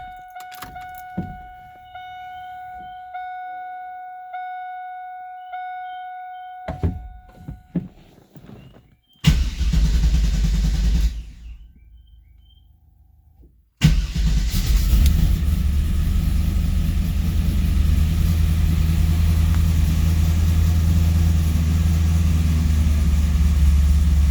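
A Chevrolet Camaro engine cranks and catches, then settles into a steady low idle rumble, running slightly rich, after some earlier clicks and beeps inside the vehicle.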